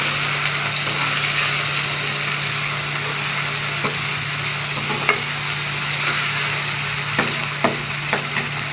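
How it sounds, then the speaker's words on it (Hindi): Meat sizzles steadily in a pan with tomatoes and green chilies, a constant broadband frying hiss under a low hum, with occasional sharp scrapes and clicks of a spoon stirring toward the end. "और मिक्स करेंगे। टमाटर हरी मिर्चें भी डाल दें।"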